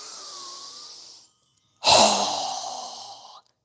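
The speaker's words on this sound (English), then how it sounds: "Strong exhale." Strong mouth exhale during yoga breathing: a brief airy breath, then a pause, then a loud forceful blast of breath that trails off over about a second and a half, close to the microphone and alone.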